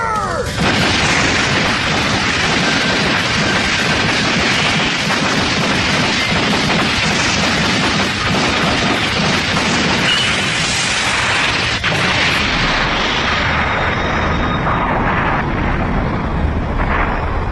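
Sustained heavy gunfire and artillery booms roar continuously at close range, dense overlapping blasts and crashes filling the scene, with a voice briefly shouting under the barrage before it thins out toward the end.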